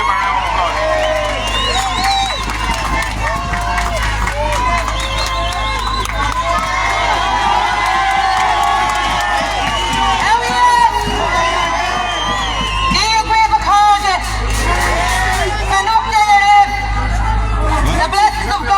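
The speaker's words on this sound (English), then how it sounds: "Let's give her a round of applause" A large, lively crowd at an event cheers and applauds for a speaker, with whoops and shouts layered over constant babble. Voices stay prominent throughout the noisy, sustained ovation.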